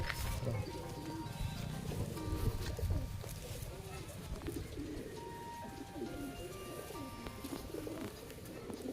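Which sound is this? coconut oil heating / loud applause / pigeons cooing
pigeons cooing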